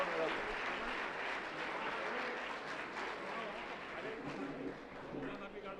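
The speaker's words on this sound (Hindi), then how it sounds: "इस बीच जोरदार ताली बजनी चाहिए" Loud, sustained applause from a gathered crowd at a spiritual event where two saints meet, dense clapping running throughout with voices mixed in.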